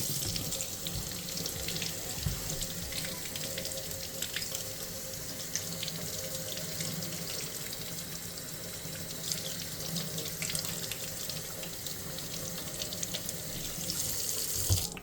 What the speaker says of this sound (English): So I'm going to do a hot rinse.